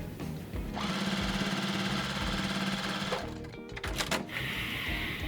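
A sewing machine runs steadily, stitching quilt block pieces together with a loud, continuous mechanical whir, then pauses briefly and restarts near the end.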